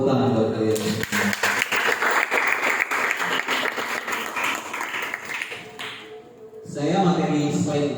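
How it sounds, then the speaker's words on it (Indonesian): Students clap together during a school leadership training session, a burst of applause of roughly five seconds that fades out, with speech heard before and after it. "Tepuk tangan buat kalian."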